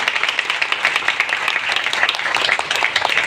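Applause from a gathered audience at a devotional Jalaram event, a continuous dense wash of many hands clapping, steady and fairly loud throughout.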